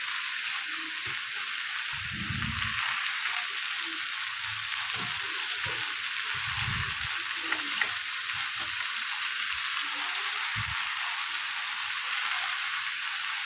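Chopped spinach fries in a pan with a fish head, giving a steady, loud hiss and sizzle throughout, broken by low thuds and scraping as it is stirred, with no talk.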